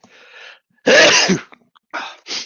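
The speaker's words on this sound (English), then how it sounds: "I'm going to sneeze." A sneeze from a man on a casual live-chat podcast: a loud, sharp burst near the mic, preceded by a short inhaled gasp and followed by two brief breathy sniffs or exhales.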